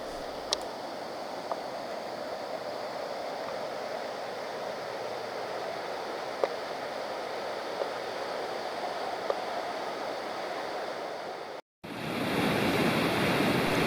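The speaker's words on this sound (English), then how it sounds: "the water kind of broke through the rock formation here and kind of flowing freely" Water pouring through a rock formation in High Falls Gorge, a steady broadband rush of falling water that holds constant for the whole stretch, then cuts out briefly and returns slightly louder.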